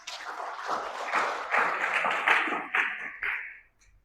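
A church congregation applauds at a Bukit Sabda Bahagia service, a dense crowd clapping that swells in waves over about four seconds before quickly dying away.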